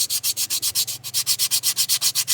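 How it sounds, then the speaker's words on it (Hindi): Sandpaper scrubs rhythmically against a rusty motorcycle disc brake pad being cleaned, about a dozen and a half loud, even back-and-forth strokes close up, with no voices. "ये एक सीस पेपर लगेगा इस टाइप का, इसी से घिस के हम लोग इसको क्लीन करेंगे।"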